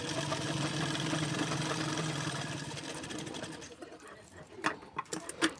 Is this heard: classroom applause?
no